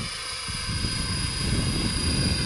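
An RC helicopter passes in fast forward flight, its rotor buzzing loudly and steadily with a throbbing low chop, close and continuous for the whole stretch, with no talking.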